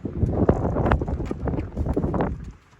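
Strong wind buffeting an open mountain lookout near 9,000 feet, with loud gusty rumble and bursts of wind noise hitting the microphone throughout before easing at the end.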